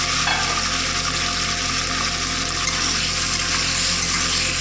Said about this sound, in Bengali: দিয়ে ভালো করে এই মশলার সঙ্গে আলুটা কষতে থাকবো